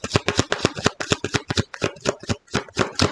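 Tarot cards are handled and shuffled, with a quick run of crisp slaps and flicks as they are laid down one after another, close and clear, with no voice heard.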